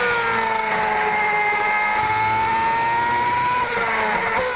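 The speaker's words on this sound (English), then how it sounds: "Now I'm going to show you a lap in the F60 in this Formula One circuit." Ferrari F60 Formula One car engine screaming at high revs on a lap of the Spielberg circuit in Austria, a loud, continuous onboard whine with rising pitch through the gears and no talk.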